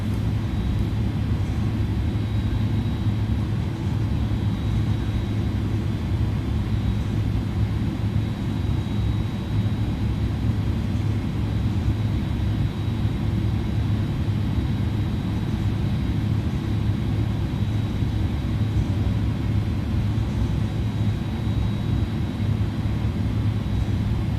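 An American Airlines A310 airliner taxis toward the runway at JFK in Microsoft Flight Simulator, giving a steady, loud, unbroken jet engine rumble and whine with no other sounds.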